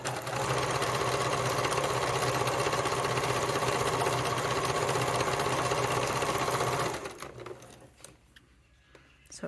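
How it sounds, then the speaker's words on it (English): A sewing machine runs a long zigzag basting stitch on a Scotia Satchel bag, a steady loud whirr for about seven seconds before stopping, leaving only faint handling sounds. "I'm going to baste it with a zigzag."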